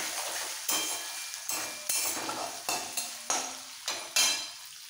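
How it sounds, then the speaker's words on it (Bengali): A spoon stirs grated coconut and curry leaves in hot oil for a dosa stuffing, with soft sizzling under repeated sharp scrapes and clinks against the pan at a steady pace. "এবার তেলের মধ্যে মিক্স করে ফেলবো।"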